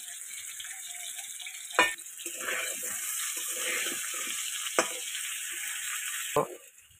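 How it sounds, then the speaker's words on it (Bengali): Potato pieces with turmeric and salt frying in mustard oil, a constant hiss of hot oil close by with a few sharp knocks and clatters of utensils against the pan. "তেলের ওপর আলু দিয়ে ভাজতে থাকবো।"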